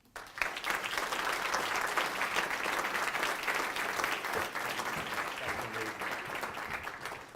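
A college convocation audience breaks into sustained applause, with dense clapping rising quickly and holding steady before easing slightly near the end; a few voices and cheers mix faintly underneath.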